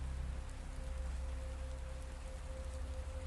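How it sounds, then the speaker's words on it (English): Steady rain pours over the white marble tombs and cracked pathways of St. Louis Cemetery No. 1 in New Orleans, a dense, even hiss of drops drumming on stone with no voices. "the same steady downpour continues, just as it has for hours, drumming against the white marble tombs and washing over the cracked pathways"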